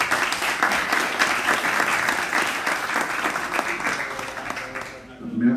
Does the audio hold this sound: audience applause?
yes